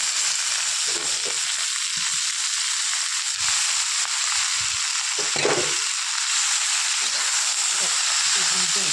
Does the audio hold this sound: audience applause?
no